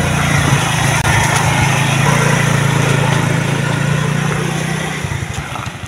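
A motorcycle engine runs close by, a loud, steady droning putter with a constant low hum that eases off slightly near the end, with no talking over it.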